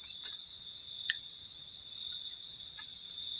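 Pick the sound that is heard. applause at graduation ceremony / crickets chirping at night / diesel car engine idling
crickets chirping at night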